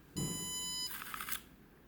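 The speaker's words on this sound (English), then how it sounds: "Once it beeps, as it's flashing, that's when you put your next finger on" A single high electronic beep lasting under a second from an Armstrong 2nd gen fingerprint lock (SDWF-MC202-G2), followed by a brief soft mechanical whir, quiet and close.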